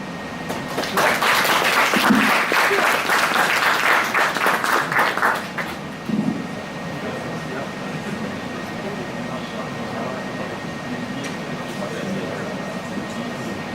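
Audience applause at a convention dance competition, loud and steady crowd clapping for about five seconds before stopping abruptly and giving way to quiet room noise.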